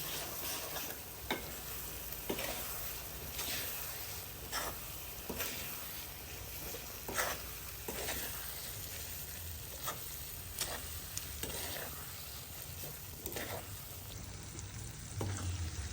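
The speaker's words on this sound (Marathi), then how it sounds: "आता ही वाटलेली खसखस टाकूया. हिला 2-3 मिनिटं परतून घेऊया." Ground poppy seed paste for a Maharashtrian khas khas bhaji stir-fries in a hot pan. It gives a steady close sizzle, broken by regular scraping strokes of a spatula roughly every second.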